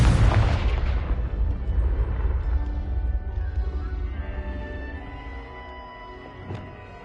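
Confringo spell blast in Hogwarts Legacy, one loud, close explosion at the start whose deep rumble slowly decays over several seconds.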